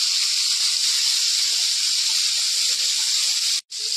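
Chopped onion and garlic fry in hot oil with a loud, steady sizzling hiss that holds unbroken for several seconds, cuts out abruptly for an instant near the end, then resumes.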